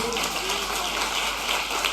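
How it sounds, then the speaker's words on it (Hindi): A church congregation claps for the Lord, a dense wash of hands beating together throughout the short stretch, fairly loud, with voices mixed in. "ओ ताली बजाइए प्रभु के लिए"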